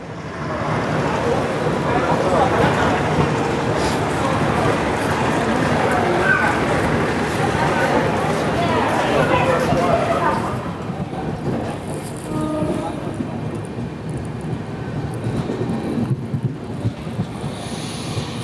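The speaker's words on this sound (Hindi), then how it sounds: "4:31 पर सौराष्ट्र जनता एक्सप्रेस निकल चुकी है वांकानेर जंक्शन से" The Saurashtra Janta Express runs onward from Wankaner Junction, its steady rumble and clatter filling the carriage loudly before easing to a quieter, even roll.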